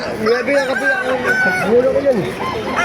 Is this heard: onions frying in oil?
no